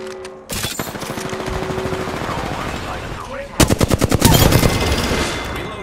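Video-game automatic gunfire rattles in sustained bursts, steady at first and then louder, harder-hitting volleys in the second half, close and dense throughout with no talk over it.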